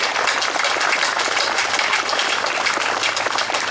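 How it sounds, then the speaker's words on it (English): Crowd applause for State Representative Joe Ham at a 9/11 memorial motorcycle ride service, a steady, dense and fairly loud clapping that holds evenly throughout with no voices on top. "A nice round of applause for the work he has done for the ride and his district in general."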